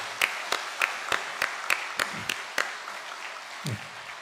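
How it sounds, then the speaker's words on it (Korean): A Methodist church congregation claps to welcome new members during a Sunday service: about nine distinct, evenly spaced claps ring out at moderate volume, with a faint voice murmuring underneath. "따뜻한 박수로 환영하겠습니다"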